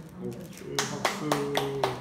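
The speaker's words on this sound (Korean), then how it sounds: "오케이, 박수." A small class gives several distinct hand claps in an uneven rhythm, about five sharp near claps over a lingering voice tone from a Bible-study lesson.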